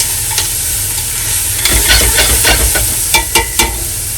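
Onion being stirred in a pot for Welsh cawl, a close sizzle with scraping spoon strokes and a few sharp knocks toward the end.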